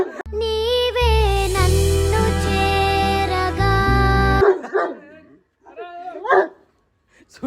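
Judo, a pet dog, gives a few short, uneven barks and yips close by, coming after a stretch of loud music and mixed with people talking.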